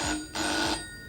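A telephone rings with a bright electronic double trill, two ring bursts in quick succession, close and fairly loud, with no talking.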